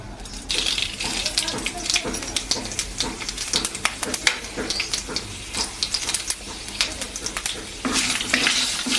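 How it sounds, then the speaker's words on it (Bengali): Panch phoron, the Bengali five-spice mix, frying in hot oil with dried red chillies and bay leaves: a continuous crackling sizzle dotted with sharp pops and spits, close up and fairly loud. "পাঁচফোড়নটা ভাজা হয়ে গেলে"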